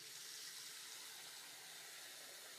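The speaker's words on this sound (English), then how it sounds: "we'll get the water going" Tap water runs steadily into a sink while a bubble bath soap bar is held under the stream, a soft broadband hiss at moderate level, with no talking.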